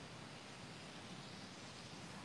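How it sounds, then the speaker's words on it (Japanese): A fountain splashes amid cherry trees in spring blossom, a steady, faint, even wash of water noise with no breaks or voices. "これ噴水の音なんですよね。"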